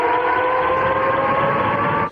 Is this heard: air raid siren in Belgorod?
yes